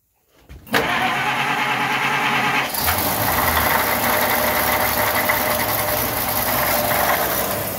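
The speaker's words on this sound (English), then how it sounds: "There it goes. It started turning." A 1927 Chevy engine cranks briefly on the starter, fires, and picks up into a loud, steady running idle with a slightly knocking texture. It is close and continuous, with no voices.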